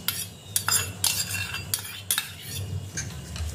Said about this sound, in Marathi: छान असं सगळं मिक्स करून घ्यायचं